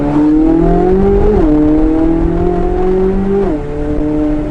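A Corvette C8 Z06 fitted with equal length headers revs hard in track mode, heard loud and steady from inside the car as a rising, smooth engine howl with two brief dips where the pitch drops, as at gear shifts.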